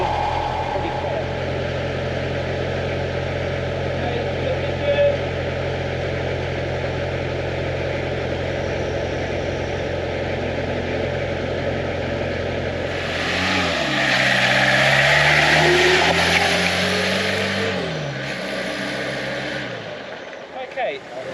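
Diesel engine of a tank or armoured car, such as an AMX13, ERC90 or AML90, running just after start-up on a private road, a steady loud idle that swells and revs midway, with people talking over it.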